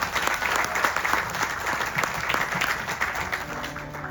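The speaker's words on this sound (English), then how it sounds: "Give him a big round of applause, please" A crowd at a Ramayan in the Park gathering applauds Pandit Neval Ramdas, the evening's Vyaas, with steady, dense clapping that holds at an even level for the full few seconds.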